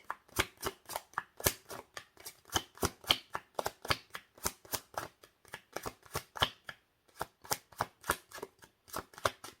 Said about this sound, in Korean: 한 장만 더 뽑아볼게요